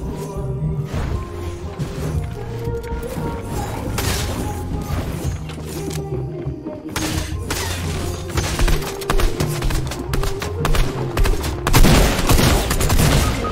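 Video game gunfire crackles in dense, repeated bursts and rapid volleys, loud and close, mixed with thuds and clanking mechanical noise, growing busier toward the end.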